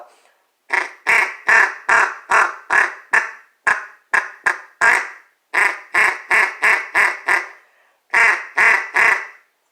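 A mallard hen duck call sounds loud, raspy quacks with rolling burr tones that imitate diving ducks, in three quick runs separated by short pauses.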